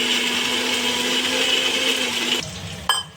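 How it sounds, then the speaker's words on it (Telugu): An electric mixer grinder whirs steadily and loudly as it grinds tomatoes, spices and oil for a gongura prawn gravy, then cuts off abruptly near the end, leaving a short clatter. "మనం మిక్సీకి వేసుకున్నాం కదా, ఇవన్నీ మెత్తగా వేసుకోవాలి ఫ్రెండ్స్"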